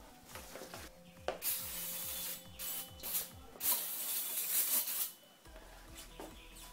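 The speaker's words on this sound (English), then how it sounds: "Now I'll give this a clean with a bit of parts cleaner." Evaporating parts cleaner sprayed from an aerosol can onto a motorcycle front fork leg during a fork seal change, heard as several hissing bursts of varying length, fairly close, with faint handling noises between them and no talk.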